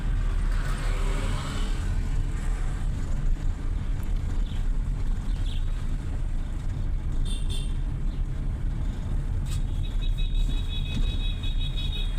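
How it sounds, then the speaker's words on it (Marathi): A car idles steadily through a driving lesson with the clutch pressed, a continuous low engine drone from inside the cabin, with faint passing traffic and a brief beeping tone near the end. "क्लच प्रेस असेल तर गाडी किती पण एक्सलेटर द्या पुढे जाणार नाही"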